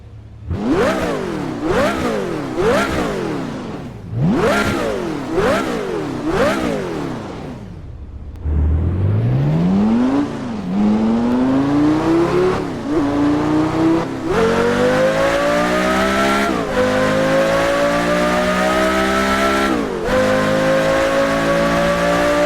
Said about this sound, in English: we got a video right here of an unreleased car sound